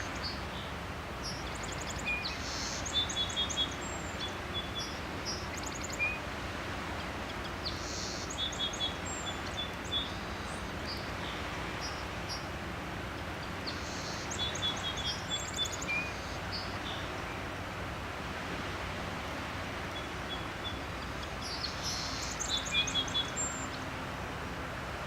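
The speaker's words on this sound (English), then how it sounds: "but it is full of birds." Birds calling in winter wetlands at Discovery Park: faint, repeated chirps and short high calls in clusters every few seconds over a steady low outdoor hiss, distant and without talk.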